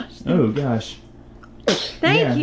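A person sneezes loudly and close to the mic partway through, a sharp burst standing out between short stretches of nearby talk.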